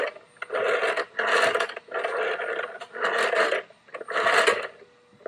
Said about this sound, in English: I'm just going to clean it up with a rag